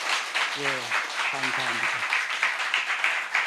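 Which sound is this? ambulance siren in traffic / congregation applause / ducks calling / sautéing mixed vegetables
congregation applause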